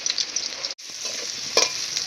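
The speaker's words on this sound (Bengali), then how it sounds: "ফুলকপি ভাজার পরে আলুটা একটু ভেজে তুলে নিই।" Potato pieces fry in a pan of oil with a continuous close sizzle. A momentary dropout is followed by a short scrape or tap of a utensil, and the frying continues evenly.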